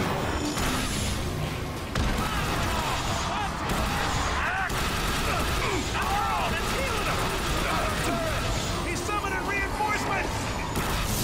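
Chaotic gunfire in a firefight from the video game The Bureau: XCOM Declassified, continuous shots and impacts layered under excited shouting voices throughout.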